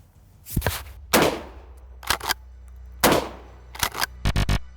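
Pump-action shotgun fired repeatedly, with loud sharp blasts followed by a pause before the forend is racked, leaving sliding mechanical clacks between shots and a final quick cluster of clicks; close and alone.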